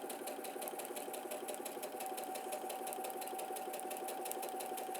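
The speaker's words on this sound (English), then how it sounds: "You'll notice I have my machine stopping with the needle down. It just means I can realign and adjust the fabric as I sew." A sewing machine runs steadily while stitching patchwork fabric, its fast even needle rhythm carrying on without a break, close and fairly quiet.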